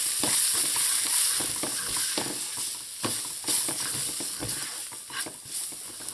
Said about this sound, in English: Now to this I'm going to add in my curry powder, and I'm using a mild curry powder. And I'm going to toast this here for about a minute.